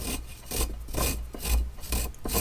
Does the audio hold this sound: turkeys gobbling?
no